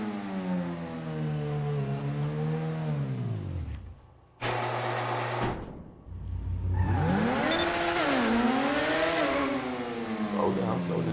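A GTA Online open wheel race car engine revs and shifts, rising and falling in pitch and cutting out briefly before roaring back up.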